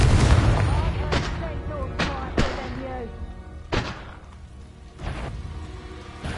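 Confringo blast spells from Hogwarts Legacy land as a series of sharp thuds and booms, about six separate hits spaced a second or so apart, with voices and game chatter in between.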